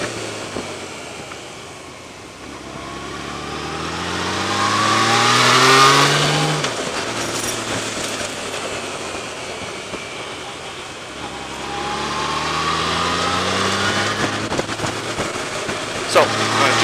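A car engine accelerating along a downhill mountain road toward a valley floor, revving rising and falling in long sweeps, steady and fairly close, with some wind noise.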